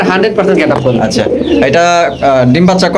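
A male Bontinet racer pigeon on a farm coos loudly and up close in repeated throaty, warbling phrases, with someone speaking over it.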